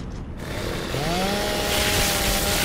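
Lancer rifle chainsaw in the video game Gears of War 2 revving up: a loud, continuous buzzing motor drone whose pitch rises and holds steady, close and dominant, with no speech.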